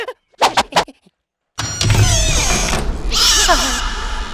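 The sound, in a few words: cat meowing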